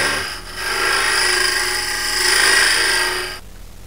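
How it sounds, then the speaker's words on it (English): A woodturning scraper rubs and rasps steadily against the inside walls of a spinning wooden acorn box on the lathe, a continuous close, fairly loud scraping with a bright hiss that swells and fades, then stops abruptly near the end. "So now I'm using this scraper to kind of clean it, clean that, clean the walls down"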